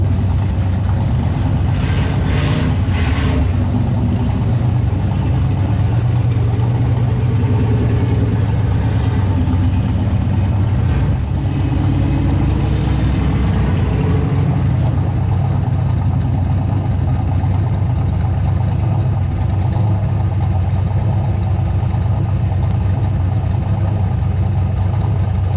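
A Foxbody Mustang that has not been run in a while idles roughly, a steady low engine rumble that holds close and loud for the whole stretch and is never covered by talk.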